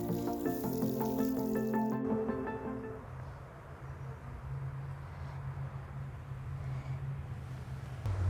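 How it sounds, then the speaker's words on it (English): Water from a hose or can trickles and splashes onto freshly transplanted seedlings in a garden bed, a steady soft gush and drip over the soil, close and continuous with a brief tonal sound early on. "I carefully water each transplant thoroughly and methodically."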